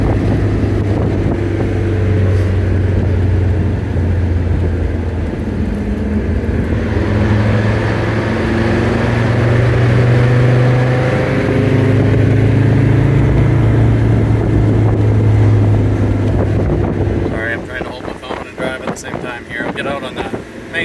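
A 1994 Toyota 4Runner fitted with a Mercedes turbo diesel pulls away under acceleration, a steady engine drone rising in pitch through the gears, heard from inside with wind noise and no talk over it.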